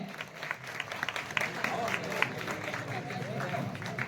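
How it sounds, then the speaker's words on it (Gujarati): A crowd at an Aam Aadmi Party political gathering claps to welcome Malaybhai Jani, a moderate, fairly distant patter of applause with some murmuring voices mixed in. "આપણે તાળીઓના ગડગડથી વધાવી લઈએ મલયભાઈ જાનીને"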